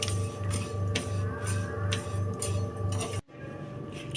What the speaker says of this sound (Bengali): সমস্ত উপকরণগুলো শুকনো খোলায় ড্রাই রোস্ট করে নিচ্ছি